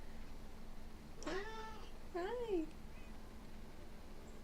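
A cat in the video game Minecraft gives two short, clear meows about a second apart, close and distinct over a faint steady hiss, with a person speaking briefly nearby.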